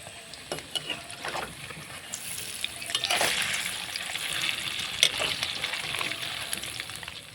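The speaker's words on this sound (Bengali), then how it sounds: "বড়াগুলোকে উল্টে পাল্টে দিয়ে ব্রাউন কালার করে ভেজে নিলাম।" Lentil fritters (bora) for dahi bora fry in hot oil in a wok and are turned over. The oil keeps up a bubbling sizzle, and scattered utensil taps sound close by.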